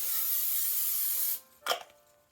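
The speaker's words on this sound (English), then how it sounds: "add some Pam spray into the pan itself" A continuous aerosol spray of Pam cooking spray into a pan hisses loudly for over a second, stops, then a brief clatter or sizzle follows nearby.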